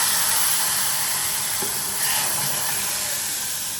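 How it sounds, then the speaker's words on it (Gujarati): Mustard seeds, cumin, curry leaves and asafoetida hitting hot oil as a tempering for kadhi, a steady bright hiss and sizzle that swells briefly midway and carries on without any talk. "અને હવે આપણે આ કઢીનો વઘાર મારી દઈશું."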